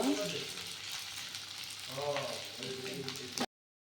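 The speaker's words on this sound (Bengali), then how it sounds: "এখন আমি উল্টো দিব, উল্টো দিকে ভেজে নিব" Cauliflower pieces fry in a pan after being turned over, a dense close hiss of oil running continuously, with a faint voice-like murmur beneath it before an abrupt stop.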